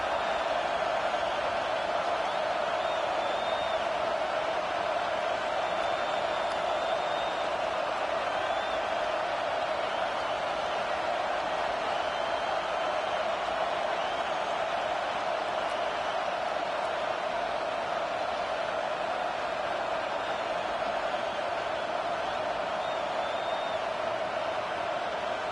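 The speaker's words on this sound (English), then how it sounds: "This crowd rising up, sensing that its defense needs some help." A stadium crowd at a college football game against Washington State rises into a steady, dense roar that holds at an even level throughout, broad and distant.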